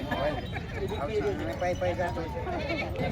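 Two young sheep lambs bleat at the Vasmat livestock market in Hingoli district, short wavering cries repeating through a noisy outdoor crowd while people talk nearby.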